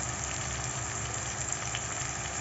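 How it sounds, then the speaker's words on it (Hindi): Onions of several colours, white and purple among them, frying in a pan toward golden brown: a steady, close, even sizzle with no talk. "तो इसको गोल्डन ब्राउन होने तक फ्राई करूँगी"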